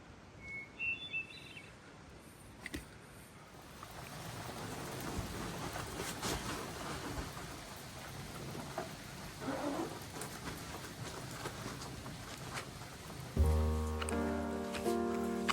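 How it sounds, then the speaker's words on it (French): Steady rain falls through an evening on the Appalachian Trail, a continuous soft hiss with scattered drips and patters. A few faint bird calls rise early on, and a brief louder rustle comes near the end. "Il a plu toute la soirée, une partie de la nuit."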